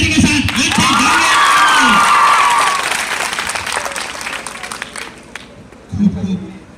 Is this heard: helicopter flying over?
no